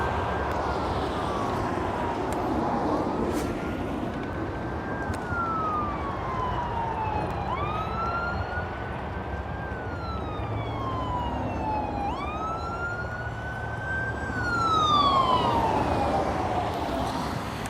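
An ambulance siren wails past at a distance, its slow rising and falling tone sweeping over steady outdoor background noise, with the pitch dropping as it moves by and growing slightly louder near the end.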